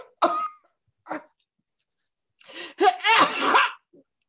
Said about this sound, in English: You're coughing up blood.